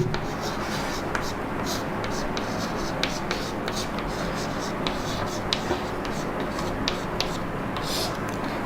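Pen writing out the slope of line BC in a straight-line maths lesson, faint steady scratching and light taps under a background hiss, with quiet talk alongside.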